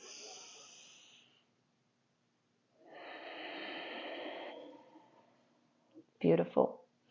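Deep yoga breaths, with two long, airy breaths a few seconds apart, then a pause and a couple of short, sharp nasal snort-like bursts close to the mic.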